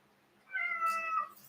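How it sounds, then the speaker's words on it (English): A cat gives one loud, drawn-out meow up close in a quiet room, followed by a short extra squeak at the end. "Do you demand it with your big meow?"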